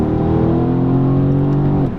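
Mercedes C63s AMG Coupe luxury sports car engine rolling through the gears: a loud, close, steady rev with a rich tone that holds for nearly two seconds before dropping at the upshift, with no talk.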